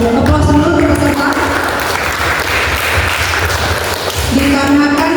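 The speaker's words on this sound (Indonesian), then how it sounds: "Aplaus dulu untuk peserta" Audience applause for contestants at a quiz competition, a dense, steady wash of many hands clapping that stays loud throughout, with a few voices faintly audible at the start and end.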